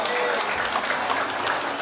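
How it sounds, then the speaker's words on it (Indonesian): An audience at a retired servicemen's Halal Bihalal gathering applauds in a short, steady burst of clapping that carries evenly from start to finish. "Tepuk tangan dong."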